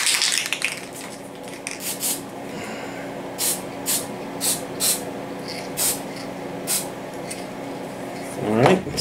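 An aerosol spray can hisses in a series of short, evenly spaced bursts over a model train decal on an N scale diesel, against a low background hum, with a louder rustle at the end.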